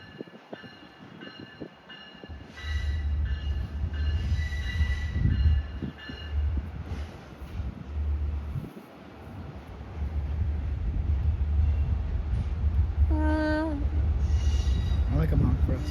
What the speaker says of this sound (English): Oh, that's big. It's a big train.